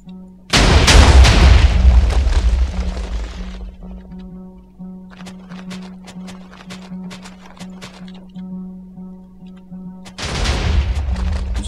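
Heavy booming cannon blasts in the video game WarGear erupt, fade into a rumbling tail with scattered crackling impacts, then another loud volley hits near the end.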